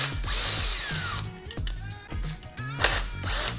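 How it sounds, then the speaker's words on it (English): A cordless impact wrench hammers loose the brake pedal bolts on a dirt bike in several loud, close, rattling bursts with short pauses between them. "I like to use a cordless impact for more efficiency and quicker removal of the bolts."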